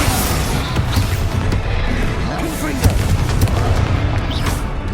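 Bombarda spell explosions from the video game Hogwarts Legacy, a dense continuous roar of booming blasts and crashing debris, loud and sustained throughout with game sound effects layered over it.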